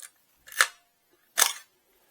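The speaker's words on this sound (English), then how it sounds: "the shutter works not only on that speed, but you'll hear the difference." A Zenit film camera's shutter fires twice, each release a sharp mechanical clack heard close and alone, separated by a short pause, with the two firings at different speeds.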